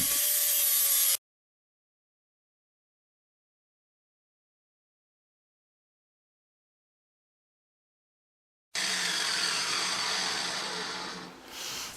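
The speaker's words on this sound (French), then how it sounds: "je fais ensuite un coup de propre à la disqueuse avec un disque à lamelles, okay, avec un grain de 125" An angle grinder fitted with a 125-grit flap disc cleans up welds on a steel rebar bender. A short burst of harsh, loud grinding is followed by a long silence, then a longer grinding pass that fades near the end.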